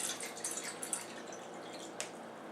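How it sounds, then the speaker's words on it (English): About 12 ounces of water poured into an aluminum pan in an apartment kitchen, a faint continuous trickle with light drips and a soft splash near the end. "pouring 12 ounces of water into this aluminum pan"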